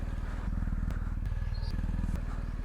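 A BMW motorcycle engine idles with a steady low rumbling pulse, close and continuous, broken by a few faint clicks and brief noises over the top.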